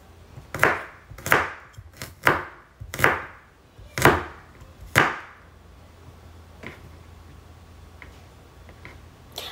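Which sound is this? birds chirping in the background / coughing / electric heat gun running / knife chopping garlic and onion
knife chopping garlic and onion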